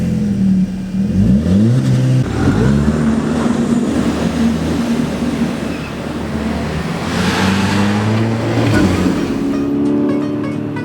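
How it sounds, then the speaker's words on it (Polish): A Seat Ibiza Cupra 1.4 TSI turbo petrol engine revs and accelerates hard, its pitch climbing through several gear changes, loud and close as if heard from inside the cabin. "Dźwięk tego silnika to jedna z rzeczy, która chyba najbardziej nas zaskoczyła"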